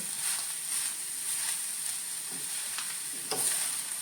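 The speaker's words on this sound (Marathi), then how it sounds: "एक तूप घालून घेवचे आणि हे बरे करून अशें मिक्स करून घेवचे" Grated coconut, sugar and ghee being stirred in a pan for Konkani coconut barfi: a soft, continuous sizzling hiss with a few faint scraping strokes, fairly quiet and without speech.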